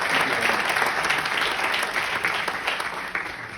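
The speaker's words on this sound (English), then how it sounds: "big applause for him" A live audience applauds a speaker at a talk, a steady dense wash of clapping that stays loud and even from start to finish with no voices over it.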